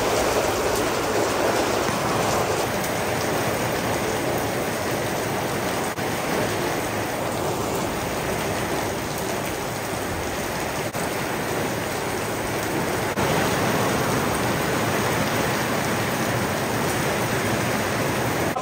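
Heavy rain pours down in a steady, dense roar of drops hitting surfaces, continuous and close for the whole stretch, with no voices.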